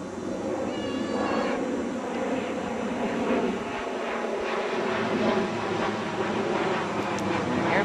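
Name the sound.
airplane flying overhead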